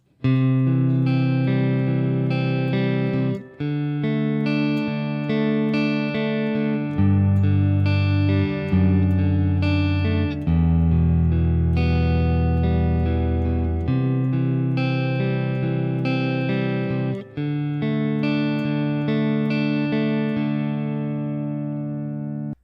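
An electric guitar plays the steady picked chord pattern of the chorus of a song, notes ringing into each other as the chords change every few seconds.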